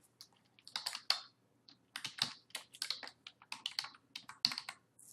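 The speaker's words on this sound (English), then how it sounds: "so I would just type in the name" Typing on a computer keyboard while entering a vendor name for a credit card charge: irregular bursts of crisp key clicks with brief pauses between, close and fairly quiet, no talking.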